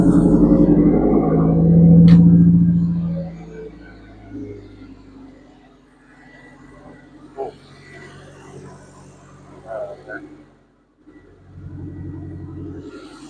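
A car's engine idles while its battery voltage is checked for a headlight problem, a low rumbling hum that starts loud and close and then settles into a quieter steady idle with brief clunks.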